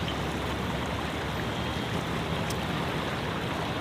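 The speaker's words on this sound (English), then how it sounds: "you got a little creek running down here and you got like the noise of the town" A small creek running through Queenstown, a steady broadband wash of flowing water blended with distant town noise, continuous and fairly loud throughout.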